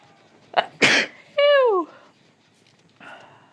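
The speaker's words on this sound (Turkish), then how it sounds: "Hapşıracağım, hapşıracağım." A single close, loud sneeze in the game Dead by Daylight Mobile bursts out, followed by a brief high-pitched whine and a short soft sound trailing off.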